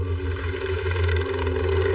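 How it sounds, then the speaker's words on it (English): A police helicopter hovers over Bondi Beach, its steady low rotor throb and engine drone continuous and fairly close for the full two seconds. "Lifeguards call in the police chopper."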